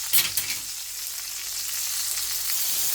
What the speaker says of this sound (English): Stand it up like this. Just for a few minutes to get seared on both sides.